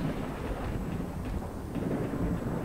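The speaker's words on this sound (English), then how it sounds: "Thunder again. There's a lot of thunder here." Low rolling thunder rumbles through a stormy outdoor scene in the video game S.T.A.L.K.E.R. Shadow of Chernobyl, a steady broadband roar with rain-like hiss that swells and fades without a sharp crack.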